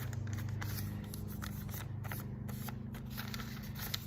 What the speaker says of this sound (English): So let's fold that in half again.